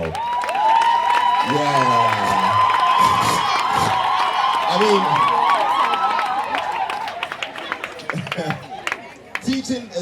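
A fashion-show audience at a design college graduation bursts into applause and cheering, with whoops and shouts swelling as a single voice speaks over the crowd before the noise tapers off.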